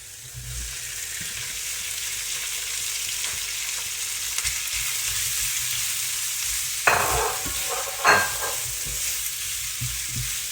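Ground beef sizzling steadily in a hot pan for a creamy beef pasta bake, a constant close hiss with a couple of louder scraping stirs toward the end, no voices.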